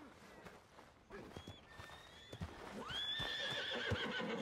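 A large, aggressive horse in the video game Red Dead Redemption 2 lets out a shrill, wavering whinny that rises in the second half, with hoof clops and scattered thuds before it.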